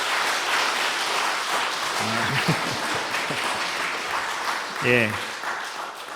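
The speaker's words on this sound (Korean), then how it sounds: "우리 격려 박수 한번 쳐겠습니다." A Korean Methodist church congregation breaks into sustained, even applause, a close, continuous patter of many hands, while a voice briefly speaks over it.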